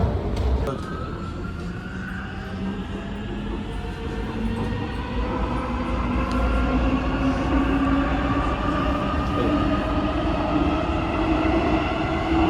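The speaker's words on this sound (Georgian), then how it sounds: "ჩავდივართ მეტროში, ისევ." A Warsaw metro train rumbles along at a steady roar, its motor whine rising in pitch as it picks up speed.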